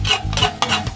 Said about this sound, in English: Just breaking down that pork.